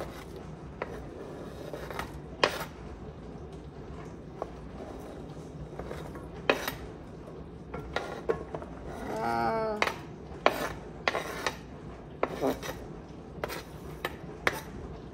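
Onion and carrots tipped into a pan and stirred over medium heat, with scattered clinks and scrapes of a utensil against the pan, a brief sizzle, and cooking noise close by.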